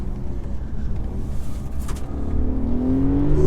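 A 2021 Mercedes E300 coupe with EQ Boost accelerating hard from the driver's seat, its engine note swelling and climbing steadily in pitch over a loud road and wind roar, no voices.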